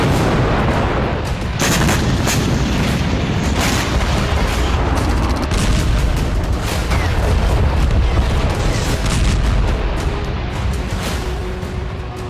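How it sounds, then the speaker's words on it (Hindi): Artillery fire and explosions in the Ukraine war roll on as a dense, continuous wall of heavy booms and sharp cracks for about twelve seconds. Several louder blasts stand out from the rumble. "विस्फोट से गूंजा यूक्रेन"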